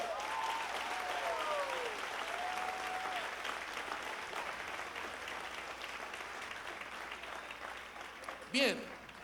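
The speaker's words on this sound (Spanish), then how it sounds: "yo quiero que tú te des un aplauso a ti mismo hoy" A church congregation claps steadily throughout, a dense, even patter of applause with a voice speaking over it, ending with a brief sharp sound near the close.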